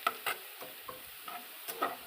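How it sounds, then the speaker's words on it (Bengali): Onion frying in a pan with a spoon scraping and stirring it, several separate clinks and scrapes over a soft background sizzle, close and fairly quiet. "দেখো পেঁয়াজটা প্রায় ভাজা ভাজা হয়ে গেছে"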